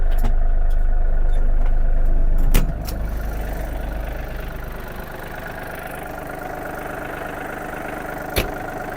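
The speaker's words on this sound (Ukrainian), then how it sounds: "давайте поглянемо на роботу його двигуна." A Yanmar US-330 mini tractor's small diesel engine idles steadily nearby, a continuous chugging rumble that drops slightly in level partway through, with a couple of sharp clicks.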